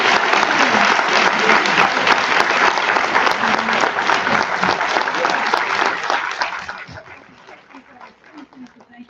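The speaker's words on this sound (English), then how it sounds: "Let's give them a round of applause." An audience at an evening book-discussion event gives a loud, sustained round of applause that tapers off after about six seconds into scattered claps and quiet room noise.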